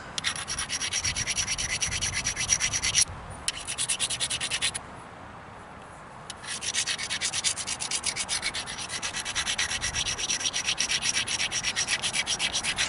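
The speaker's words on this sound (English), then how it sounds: "trying to get as heavy of a grind on this as I can, but it is difficult." A mookaite stone point being ground by hand, a loud continuous rasping scrape with rapid back-and-forth strokes that stops briefly twice before resuming.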